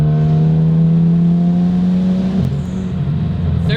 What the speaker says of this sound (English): Third gear just rocks in this car.